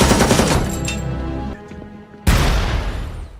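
Gunfire in an action film scene in which troops spray a bedroom with bullets: dense rapid bursts of shots, a brief lull, then another loud barrage of crackling fire.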